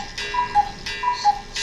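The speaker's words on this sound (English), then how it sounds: "Excuse the cuckoo clock." A cuckoo clock ticks in an even, steady rhythm, a pair of tick-tock beats repeating crisply and fairly close in an otherwise quiet room.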